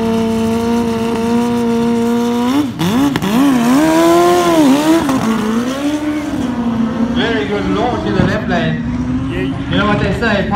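A Hayabusa motorcycle launching at a drag strip with wheel spin, its engine wailing loudly and rising and falling in pitch as revs surge, with a steady engine drone beneath and a voice commentating over it.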